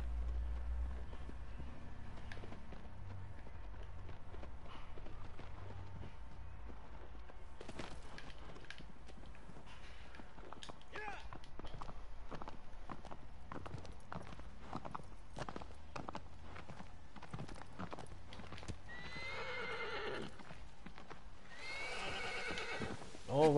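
A horse neighs and whinnies loudly in two bursts near the end, after a long stretch of irregular hoof clops as it walks about outdoors, with low rumbling in the background.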